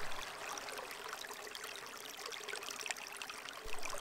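Small mountain creek along Powderface Trail where a spring flows into it, a soft, continuous babbling trickle of water, fairly faint and unbroken, with no one talking.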